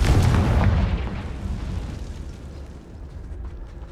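A Confringo blasting spell detonates in Hogwarts Legacy, a loud booming explosion at the start that rumbles and decays into a fading low roar over the following seconds.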